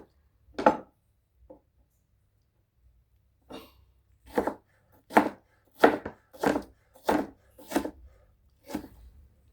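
A knife chops tomatoes in separate sharp thuds on a board, one early knock, then a quick run of about seven cuts in a fairly even rhythm, with no talking.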